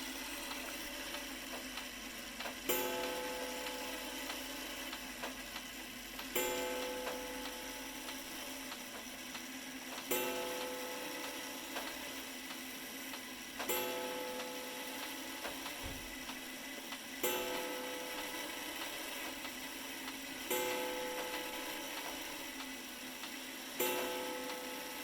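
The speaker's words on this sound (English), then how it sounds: "I'm gonna prove to you how slow the gong is on this clock" A slow mechanical clock gong strikes at a steady, unhurried pace, about seven resonant tones roughly every three and a half seconds, each ringing out and decaying before the next, heard alone at moderate distance.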